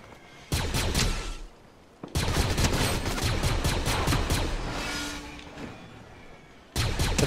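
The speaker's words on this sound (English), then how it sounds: "They're fighting each other. There's still gunfire." Gunfire in the video game Fortnite, with sustained bursts of rapid automatic shots and repeated volleys, loud and close, a brief pause between long strings of fire.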